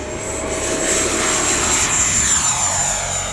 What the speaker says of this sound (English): Taking off is the easiest part of flying this plane.